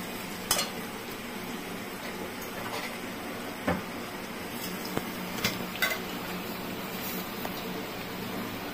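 Ghati kochu curry stirred in a cooking pan, a soft steady sizzle with scattered scrapes and clinks of a spoon against the pan, close and fairly quiet, with no talking.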